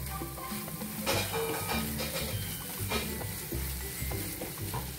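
Khawa (milk solids) stirred continuously in ghee in a pan with the gas turned off while making khawa poli, a steady soft sizzle with scraping stir strokes throughout and no talking.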